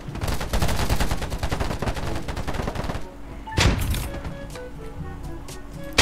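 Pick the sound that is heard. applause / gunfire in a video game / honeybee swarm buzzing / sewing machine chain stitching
gunfire in a video game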